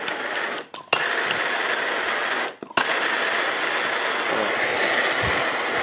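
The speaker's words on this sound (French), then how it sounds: "Donc, on va allumer le chalumeau" Gas blowtorch for tin soldering roars in a steady, loud broadband hiss, briefly cut off twice by short gaps before resuming, close and continuous with no speech.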